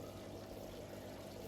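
Water pours steadily into a DIY patio water feature tank, a continuous close splashing and gurgling with no break and no voices.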